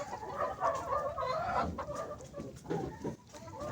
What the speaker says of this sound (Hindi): ये हमारे पास एक दोस्त के पास लेयर मुर्गी पड़ी हुई है